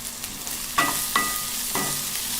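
French beans and potatoes frying in a pan with salt and turmeric, stirred in three or four scraping strokes over a bright, continuous sizzle, close up and without talk.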